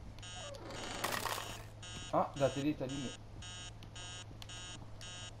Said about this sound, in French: On peut l'éteindre le réveil?